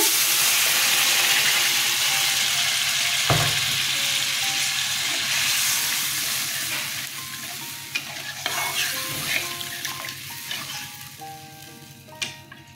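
Water is poured into sizzling masala with potatoes for a Bengali sarputi fish curry: a loud, steady frying hiss that gradually quiets, broken by a sharp splash and clatter, then softer bubbling with scattered spoon clinks near the end.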